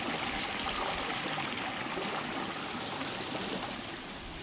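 A small mountain stream trickles on Sathuragiri hill, a soft, continuous watery rush with no voices over it.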